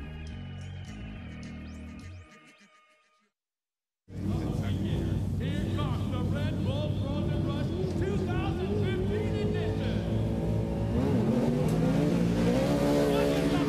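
Race trucks roar off the start at Red Bull Frozen Rush 2015, a snow and ice race: after a brief silence, loud engines rev and accelerate together in a sustained, dense roar, with a commentator talking over them.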